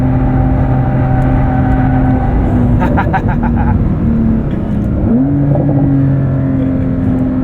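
A 2023 Porsche 911 Dakar on all-terrain tyres hums steadily from inside the cabin while driving, its engine note droning, briefly dipping and then rising again as it pulls.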